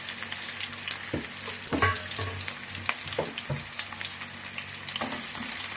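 Onions, cumin, dried chilli and garlic sizzle and crackle steadily in a hot pan, with occasional sharper pops and stirring scrapes over a continuous frying hiss, close and fairly loud, no talk.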